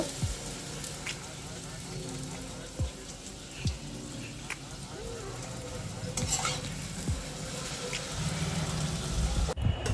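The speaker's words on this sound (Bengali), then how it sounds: "এই যে গরম গরম লুচি ভাজছি," Luchi deep-frying in hot oil sizzles steadily at close range, with occasional stirring scrapes and light clinks of a utensil against the pan throughout.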